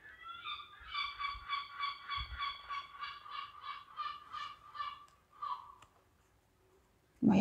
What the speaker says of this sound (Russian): чайка кричит на балконе моем